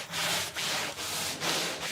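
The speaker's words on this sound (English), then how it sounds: "And now I sand lightly with a medium grit abrasive sponge." A wooden cabinet being lightly sanded by hand with a medium grit abrasive sponge, giving steady rasping strokes in a back-and-forth rhythm, close and alone.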